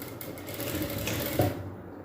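A sewing machine runs a seam on a princess-cut kurti at a tailoring class, a steady close whir with no voices.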